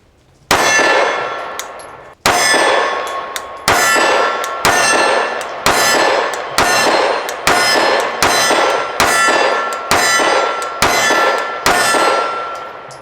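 A rose gold SIG P365 pistol fires about twelve loud, close shots, the first two spaced apart and the rest in a steady rhythm, each followed by a long metallic ringing decay.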